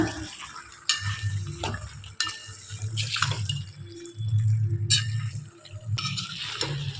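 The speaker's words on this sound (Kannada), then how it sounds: "ಚೆನ್ನಾಗಿ ಮಿಕ್ಸ್ ಮಾಡ್ಕೊಳ್ಳೋಣ." Washed chicken is stirred into fried masala in a pan, with a sizzle underneath. Irregular scraping and stirring strokes come with brief pauses and no talking.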